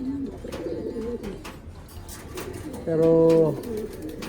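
Racing pigeons coo nearby in soft, throaty rolling calls, with one louder, clearer coo partway through, while someone speaks briefly in the background.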